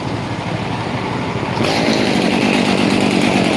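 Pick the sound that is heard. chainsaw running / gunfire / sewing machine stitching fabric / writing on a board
chainsaw running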